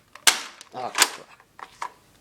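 Dry fire of a modified Nerf Big Bad Bow, a few sharp snapping clacks in quick succession, close and fairly quiet.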